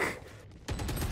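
Gunfire in the video game Valorant: a short burst of rapid shots begins abruptly after a brief lull, loud and close, with no talk.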